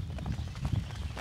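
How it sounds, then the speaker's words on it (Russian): Przewalski's horses at a zoo, with a quick run of soft, close hoof clip-clops on the ground, short and uneven, over a low background rumble. "Здесь мы встретили наших старых знакомых, лошадей Пржевальского."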